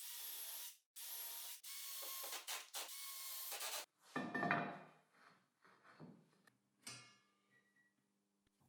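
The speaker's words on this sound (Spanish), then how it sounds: "puedo montar la mesa deslizable atornillando la base y las dos piezas delantera y trasera entre sí" Parts of a homemade sliding table saw sled base being screwed together: a loud whirring drill-driver in several bursts, then quieter clunks, rubbing and ratcheting handling noises, all close.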